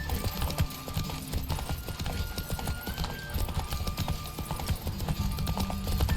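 Rapid, continuous hoofbeats of a galloping horse in the video game The Witcher 3: Wild Hunt over a dense, noisy background, steady and driving throughout.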